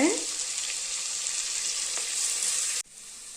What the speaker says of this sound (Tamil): வதக்கும்போது கொஞ்சம் மஞ்சத்தூள் போட்டு வதக்கிக்கலாங்க.